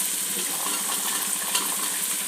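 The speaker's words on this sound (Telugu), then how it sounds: "ఇవన్నీ తిప్పుకోవాలి, కలుపుకోవాలి" Vegetables for a biryani, with cauliflower, tomato, carrot, beans, potato and peas, being stirred as they fry in a pan, a steady close hiss and sizzle with soft scraping throughout.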